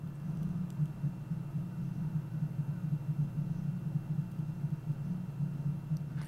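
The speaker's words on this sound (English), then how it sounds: "Now hopefully you can hear some of my hard drives spinning around." Low steady whirring hum of spinning computer hard drives and cooling fans in a room, faint and constant throughout with slight fluctuation, no talking.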